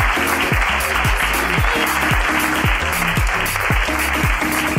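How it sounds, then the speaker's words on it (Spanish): Live audience at a Madrid comedy podcast show breaks into loud, sustained applause for two guests, a dense, steady clatter of many hands filling the room with a few voices mixed in underneath. "Muchas gracias, un aplauso para Edu. Y un aplauso para Gemma también,"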